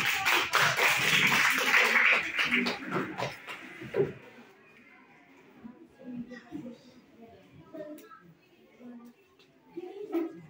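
Classmates in a school classroom clap for a presenting group, a burst of several seconds of dense hand clapping that fades out, with a teacher's voice and scattered chatter following.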